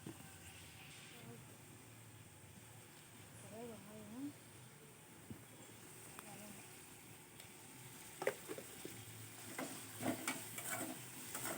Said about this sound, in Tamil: ஆனியன் போட்டு பச்சை மிளகாய் போட்டு கருவேப்பிலை போட்டு நல்லா பொன்னிறமாக வதக்கிக்கோங்க.